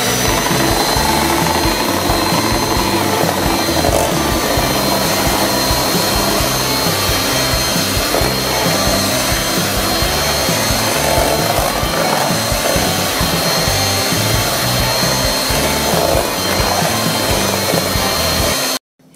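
Electric hand mixer whipping milk for an icebox cake, a dense, loud, continuous whirring buzz that stays steady throughout before cutting off abruptly at the very end.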